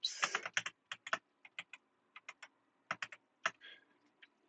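Someone types on a new computer keyboard while writing code, producing irregular clusters of close, crisp key clicks with short gaps.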